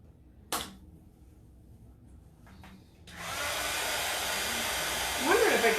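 Hair dryer blowing on a Dollar Tree wood pumpkin to dry paint, switching on after a few soft clicks and then running steadily and loudly close by, with the airflow rising slightly near the end.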